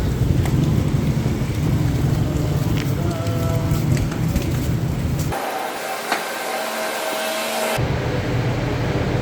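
Heavy typhoon rain pours and wind roars through a night in Manila, a dense steady rush that briefly thins and changes character before returning, close and constant.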